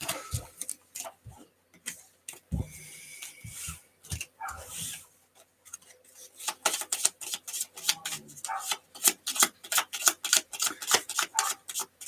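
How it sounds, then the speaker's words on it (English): Cards for the Arkham Horror card game are shuffled by hand, giving bursts of quick riffling clicks and flaps in irregular runs with brief pauses, close by and with no talk. "So shuffle all these together. Shuffle, shuffle, shuffle."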